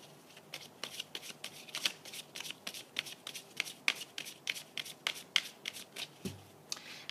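Angel oracle cards shuffled by hand at close range: a steady run of crisp riffling flicks and soft card slaps in a quick repeating rhythm, with no talk.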